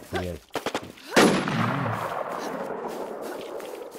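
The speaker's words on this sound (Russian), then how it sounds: "Это кто с пистолета стрелял?" Pistol shots in the online shooter NewZ Infestation during a PvP match: a sharp, loud report followed by a long echoing tail, preceded by a few short clicks, with no voices.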